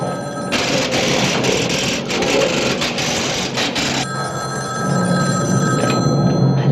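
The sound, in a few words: telephone ringing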